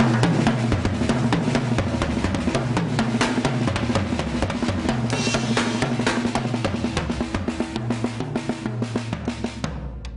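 A drum kit plays a steady groove, the left hand filling the gaps between the main hits with quiet grace notes on the snare, loud and close, with no voices.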